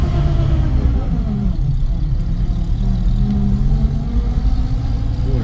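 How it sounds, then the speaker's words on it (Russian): An old Soviet car's engine revs loud and close as it pulls away across grass, a steady low rumble holding throughout with a faint voice underneath. "Все, и теперь газу побольше и поехали."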